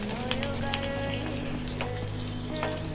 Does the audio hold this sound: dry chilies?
yes